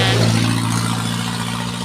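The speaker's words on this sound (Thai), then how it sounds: "รถไถก็ ไถ ทำไป" A tractor engine running steadily while plowing a rice paddy, a loud, continuous low drone with a strong droning hum and no talk.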